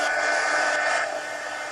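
A hair dryer blows on watercolor paint, a loud steady close whoosh of airflow with a slight drop in level near the end, no voices.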